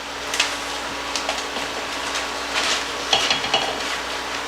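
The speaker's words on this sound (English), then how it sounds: "I'm going to stir this." Chicken stir fry being stirred in a pan with sauce, a steady sizzle under intermittent scraping and clinking of a utensil against the pan, close and moderately loud, no talking.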